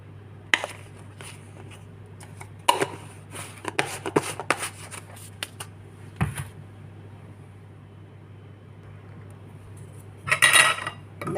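A spoon stirs spices into devilled fish in a metal pot, giving scattered clinks and scrapes against the pot sides in close, irregular bursts over a low steady hum, with no talk.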